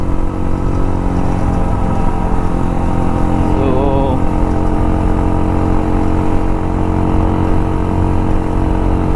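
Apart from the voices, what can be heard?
modified Hero Impulse motorcycle with Karizma engine accelerating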